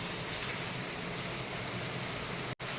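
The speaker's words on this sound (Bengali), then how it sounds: "এখনও কন্টিনিউ বৃষ্টি পড়ছে।" Steady, continuous rain falls on a rainy day, a uniform close hiss that holds level throughout and briefly cuts out just before the end.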